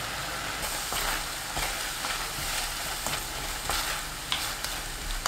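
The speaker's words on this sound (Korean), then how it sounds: "전체적으로 끓으면 우엉 넣고 섞어주세요." Burdock root being stirred into bubbling, boiling seasoning sauce in a pan: a constant sizzle and bubbling hiss with repeated scraping strokes of a spatula against the pan, close and moderately loud.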